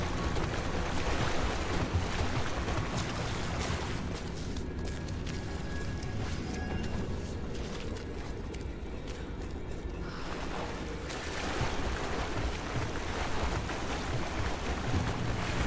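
Underwater swimming in the Rise of the Tomb Raider video game, a dense continuous wash of water and bubbling that dips slightly midway and then swells again, with no voices.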